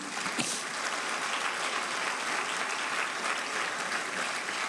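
A church congregation breaks into loud, sustained applause for Jesus, a dense, even wash of clapping that holds steady throughout.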